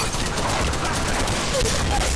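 Sustained gunfire from the Apex Legends Mobile video game rattles steadily for the whole stretch, a loud, dense stream of rapid shots with a faint murmur of voice beneath it.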